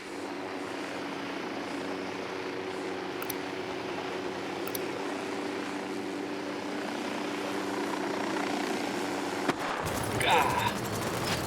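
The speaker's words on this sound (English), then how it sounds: "Drone is airborne." A drone drones steadily in a military shooter game, a constant mechanical whir filling the scene while scattered gunshots crack through it and a louder burst hits near the end.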